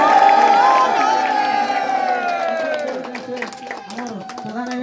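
Crowd cheering, clapping and festive ululation at a Shani temple honouring ceremony in Sonepur, a loud, dense wash of voices and applause that stays steady throughout.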